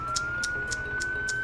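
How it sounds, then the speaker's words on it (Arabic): Emergency siren with a steady high wail and rapid repeating pulses, continuous and moderately loud over faint traffic rumble, from an ambulance arriving at a roadside scene where a motorcyclist collapsed. "هيدو اجت الاسعاف"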